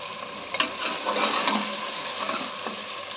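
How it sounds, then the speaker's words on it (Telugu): Goat leg mutton pieces fry in a pan with a dense, continuous sizzle, punctuated by a few sharp taps and scrapes from stirring, close and fairly loud with no talking. "ఇందులో కాసేపు ఇవి మగ్గనివ్వాలి. ఇలా ఫ్రై అవ్వాలి ముక్క."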